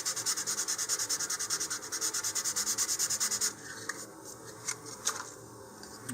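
Rhythmic back-and-forth sandpaper strokes roughing up the launch lug line on a model rocket, close and steady for several seconds, then a few scattered scrapes and soft handling noises.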